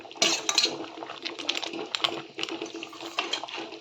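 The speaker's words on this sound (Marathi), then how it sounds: "आता टाकलेला रस्स्यामध्ये आणि पूर्ण ढवलून घ्यायचा आहे" Crab curry masala being stirred into a pot of rassa made with freshwater crabs, giving steady scraping and clinking of a utensil against the metal pot, close and continuous with small watery splashes.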